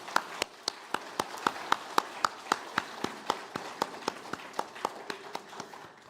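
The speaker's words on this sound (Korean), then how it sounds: "우리 다시 한번 큰 박수를 보내드리겠습니다" In a Sunday afternoon worship service, the congregation gives a round of applause as a quiet, evenly spaced series of sharp claps, about four per second, that keeps a steady rhythm and fades a little toward the end.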